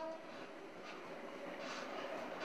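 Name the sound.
inside a moving, swaying PNR passenger train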